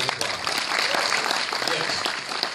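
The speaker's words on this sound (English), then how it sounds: "Give them a big round of applause." A room full of people at a community scholarship dinner breaks into loud, dense applause, steady clapping that fills the whole moment.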